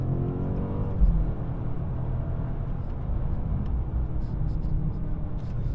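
BMW M5 on a race track accelerating hard out of a corner, a steady loud engine drone with wind and road roar, building slightly after a brief shift about a second in, continuous throughout.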